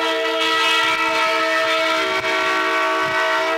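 A train rolling past near a night soccer field, a long, loud chord-like horn blast holding steady the whole time, briefly dipping once, with no talk.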